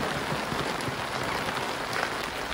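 Heavy rain pours down steadily around a house, making a dense, loud, even hiss that carries on without a break. No voices can be heard.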